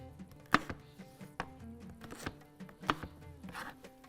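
Capsicum being chopped into chunks with a knife on a board, a handful of sharp, distinct cuts at an uneven pace, close and fairly quiet, with no talk.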